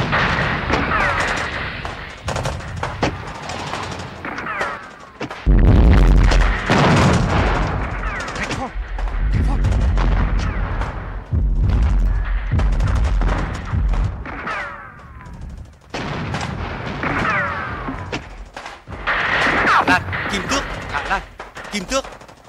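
Continuous battlefield gunfire and artillery bursting overhead, heavy booms and rapid shots layered with radio chatter from a military field operator, loud and dense throughout with voices under the barrage.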